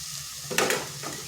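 Kalmi greens being stirred with salt in a pan, heard as a low sizzle with one brief, scraping stir burst in the middle, close up and without speech.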